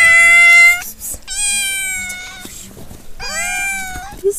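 A village cat in a snowy Adıyaman village meows three times, loud and close, each cry long and drawn out, with brief pauses between them.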